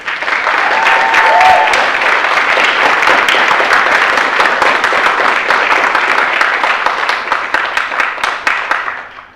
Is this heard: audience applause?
yes